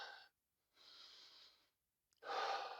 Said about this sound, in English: I'm breathing now, you can hear me.